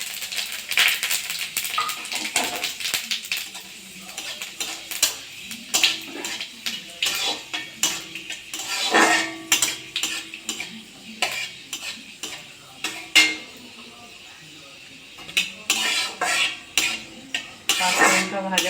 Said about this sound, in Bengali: তেলটা গরম হয়ে গেছে, আমি একটা শুকনো লঙ্কা আর 5 ফোড়ন দিয়ে দেবো।